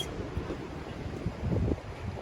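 Steady low wind rumble buffeting the microphone outdoors at a hotel in Madeira, with gusts swelling louder toward the end; no voices.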